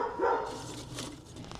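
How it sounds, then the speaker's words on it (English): Neighbors' dogs bark in the distance outdoors, a brief cluster of yips and barks at moderate volume, followed by quieter ambient sound. "As you can hear, the neighbors' dogs are doing their thing."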